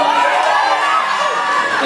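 An audience at an inter-university eloquence contest final claps, cheers and whoops in a dense, steady roar that stays loud from start to finish.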